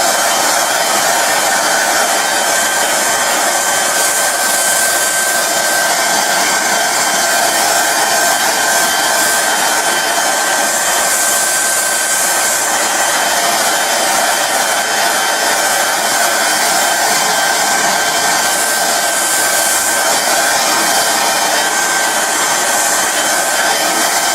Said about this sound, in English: you'll get to a point where you can up the hairdryer and blast it